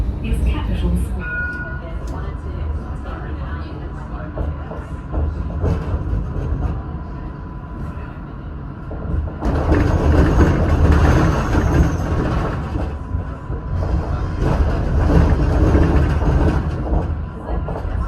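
A new Urbos 100 tram runs on the L1 Dulwich Hill light rail line, a steady low rumble with faint rail clatter that swells louder midway, and an onboard announcement voice comes in early.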